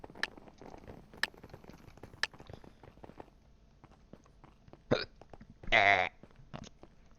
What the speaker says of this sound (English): Hiccups are evil.